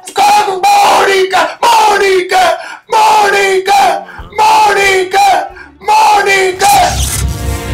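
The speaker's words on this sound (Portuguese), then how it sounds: "quando eles cá vierem, vamos todos gritar: Pedro Sérgio" A crowd chants names together in loud, rhythmic bursts, six or seven shouted phrases in a row with brief gaps between them, ending in mixed cheering.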